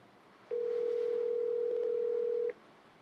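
A single steady telephone tone runs for about two seconds, loud and unbroken, then stops, over a faint background hiss with no voices, like a call left unanswered.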